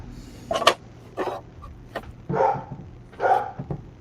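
A small chihuahua barks several times in short, sharp yaps spaced apart, fairly close, with a faint background hum.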